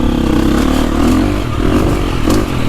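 A 2025 KTM 350 XC-F Factory Edition or Husqvarna FE 450 Heritage Edition four-stroke dirt bike engine revs loudly and close by, a barky, high-compression roar held steady with slight rises throughout.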